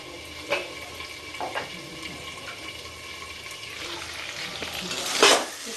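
Chicken frying in a pan with carrots and potatoes is stirred, giving a steady sizzle with a few scraping knocks and a louder rush of sizzling near the end, and no speech over it.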